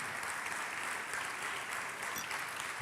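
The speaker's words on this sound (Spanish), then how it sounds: "Vamos, aplaudan con alegría." An audience at a church service claps steadily, a dense even patter of many hands sustained at moderate loudness from start to finish, with a thump near the end.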